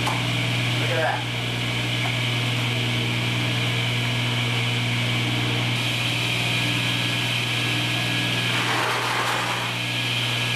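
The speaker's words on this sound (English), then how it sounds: "all I'm going to do is flip the switch and pull my bicycle inner tube, and this motor should kick right off" Old table saw motor kicked on by a pulled bicycle inner tube, running as a steady close hum with a constant mechanical whine throughout, with a voice talking briefly over it.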